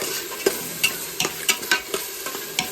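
Masala for mutton biryani fries in a pan, with a steady sizzle under repeated sharp scrapes and clinks of a spoon stirring against the metal.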